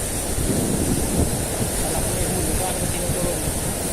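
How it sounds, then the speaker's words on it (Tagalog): Powerful surf crashes and churns close by along a fishing shoreline, a continuous rough roar with wind rumbling on the microphone and a voice briefly heard over it. "Ang lakas ng alon."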